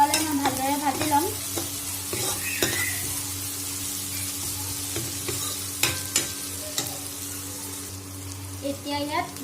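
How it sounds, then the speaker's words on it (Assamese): Crushed ginger and garlic fry in hot oil over browned onion for a duck and pumpkin curry, with a steady close sizzle broken by repeated spatula scrapes and stirring strokes, and a brief clatter near the end. "আদা নহৰু কেঁচা গোন্ধটো নোযোৱালৈ মই ভালদৰে ভাজি ল'ম"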